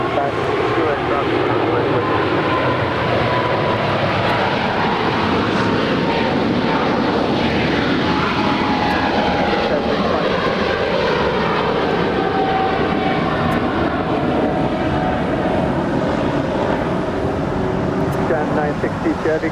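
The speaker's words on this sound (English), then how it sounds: "This is DHL Flight 962 departing to Cincinnati. It's a 3-year-old Boeing 777 freighter with a white nose." A three-year-old DHL Boeing 777 freighter departs LAX bound for Cincinnati, a loud, sustained jet engine roar filling the whole stretch with a shifting whine as it climbs away, with a voice speaking over it.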